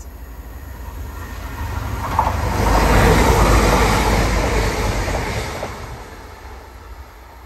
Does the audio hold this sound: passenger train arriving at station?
yes